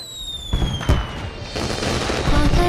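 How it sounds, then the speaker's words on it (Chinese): Festival fireworks bursting during a night flower festival in a historical drama, with several loud booms and crackling over a dense layer of music. "是花神节的烟花"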